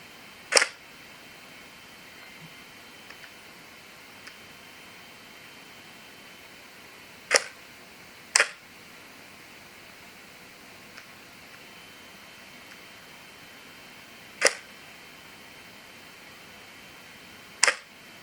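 A single-lens reflex camera shutter clicks five times at irregular intervals, each a crisp isolated snap over a quiet hiss, with no talking.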